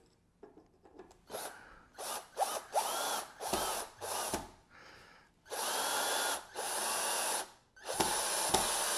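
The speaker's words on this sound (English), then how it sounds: "you can go ahead and put one screw in it to hold it" A power drill driving a screw, several short bursts of whirring that start and stop, then a longer steady run and a final burst, close and clear with no talk.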